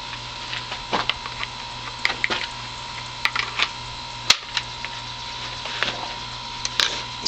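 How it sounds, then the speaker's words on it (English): Magazine seated into an M1 carbine rifle: a few crisp, close mechanical clicks and snaps, with one louder sharp clack standing out among lighter metallic taps. "I'm gonna throw a mag in."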